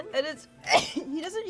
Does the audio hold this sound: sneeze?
yes